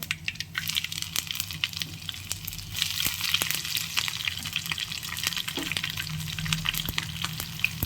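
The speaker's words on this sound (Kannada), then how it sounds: "ಎಲ್ಲನೂ ಒಗ್ಗರಣೆ ಹಾಕ್ಕೊಂಡಿದ್ದೀನಿ" Tempering spices splutter in hot oil while curry leaves pongal is being cooked, giving a steady sizzle full of sharp crackles and pops at close range, with no talking.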